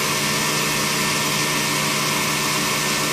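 A 1997 Mazak VTC-30C traveling column vertical machining center with its spindle running at speed, producing a steady, loud, unbroken whine and hum that continues throughout with no talk.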